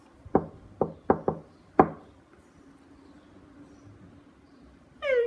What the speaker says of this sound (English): Mr. Happy knocked at the door.